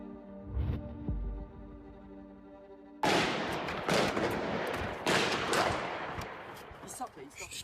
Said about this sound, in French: Pendant cette fusillade, un seul agent réplique.